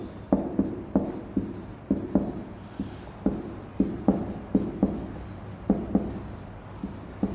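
Chalk or marker taps and strokes on a board as a teacher writes out a Hindi poetry example during a class-12 literature lesson, a steady series of short, close scratchy knocks with no talking.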